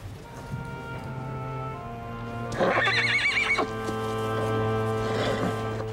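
A horse gives a loud, clear whinny mid-clip, its rising and falling harmonic call standing out over steady low background hum and a faint rhythmic clip-clop.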